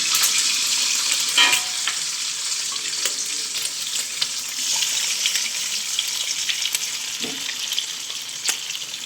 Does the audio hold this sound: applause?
no